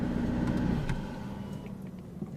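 A McLaren 675LT with a new exhaust system idles loudly nearby, then cuts off abruptly, leaving quieter background noise behind.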